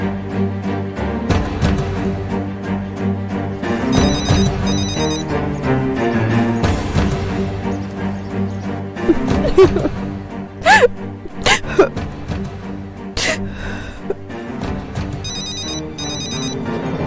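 A telephone rings in short repeated bursts of an electronic ringtone, heard near the start and again at the end over a busy backdrop of music and scattered noises.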